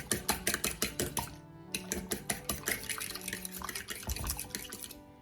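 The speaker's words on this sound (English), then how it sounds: "in this bowl and then tamper it a little bit with this warm milk" Warm milk poured into eggs in a bowl for milk bread rolls, a close run of rapid dripping and splashing with light clinks against the bowl, about five seconds with no talk.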